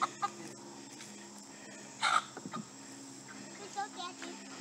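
A rooster gives a few soft, short clucks close by, with faint background noise and a brief voice.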